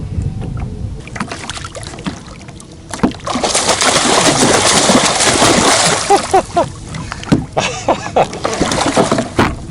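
A hooked blue catfish thrashes beside a fishing boat in Tennessee, throwing up a long run of loud, close splashing and sloshing water, followed by a string of shorter splashes and knocks.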